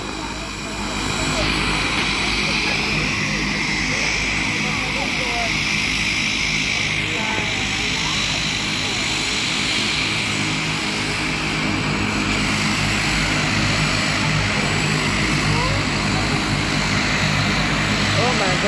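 Turboprop engines of a Maldivian Dash 8 Q300 airliner roar loud and steady at close range, a broad continuous drone with a propeller hum that holds for the whole stretch without fading.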